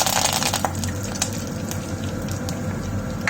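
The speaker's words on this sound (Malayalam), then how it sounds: "അപ്പം ഇച്ചിരി കറിവേപ്പില ഇട്ട് കൊടുക്കും" Curry leaves crackle and spit in hot coconut oil with mustard seeds in a clay pot, giving a dense close hiss scattered with sharp pops throughout.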